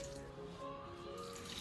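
Faint running water poured while washing rice in a village kitchen, a soft continuous trickling and splashing with no voices.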